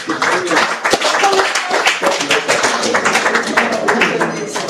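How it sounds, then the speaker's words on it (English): An audience claps in sustained applause at a live event, dense and fairly close, with some voices talking over it. "Let's give a round of applause one more time."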